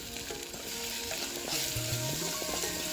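Spices with salt, chili powder and turmeric roast and sizzle in a pan for a dal vegetable curry, a steady close frying hiss with stirring scrapes, no talk.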